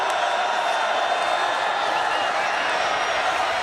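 Large stadium crowd of football fans roaring and cheering after a touchdown by a team whose supporters travelled from New Orleans, a dense, steady wall of distant voices with no break.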